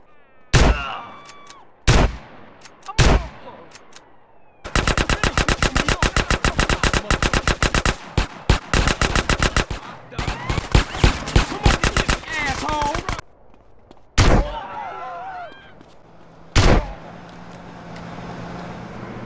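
Gunfire in GTA San Andreas with a death animations mod: several loud single shots, then long dense bursts of rapid automatic fire, followed by more isolated heavy shots, all close and dominant.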